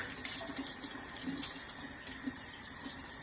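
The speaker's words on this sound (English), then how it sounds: "I like to turn on the water to make sure it's warm." Water runs steadily from a tap for hand washing, a continuous soft hiss and splash close by with no talk over it.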